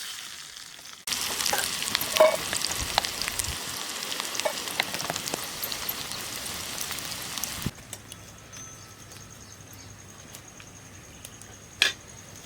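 Onion hitting hot oil with cumin in a pan, a loud burst of sizzling that starts abruptly and crackles steadily for several seconds, then drops to a faint, quieter simmer with a single sharp clink near the end.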